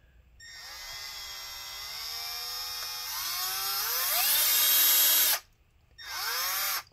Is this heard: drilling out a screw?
yes